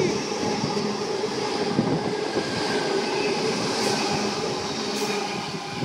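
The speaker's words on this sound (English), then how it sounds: "T-set passing." A Sydney T-set electric suburban train passes close by at Como station, a loud steady rumble and roar of wheels on rails with faint squeals, continuous throughout.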